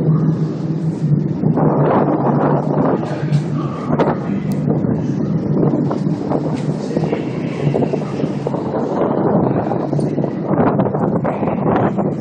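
A loud, steady roar of strong wind blows across an open deck, buffeting the microphone throughout over a low rumbling drone.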